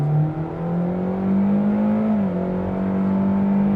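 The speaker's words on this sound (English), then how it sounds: "Sport mode, off the line, on the gas." A 2025 Hyundai Elantra SEL Sport pulls away hard in sport mode, its engine droning steadily with rising pitch and a brief dip like a shift, loud inside the cabin with no voices.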